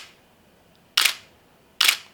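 Two crisp DSLR shutter clicks, either a Canon 5D Mk1 or a Nikon D700, each a sharp mechanical snap close to the microphone, spaced under a second apart in a quiet room.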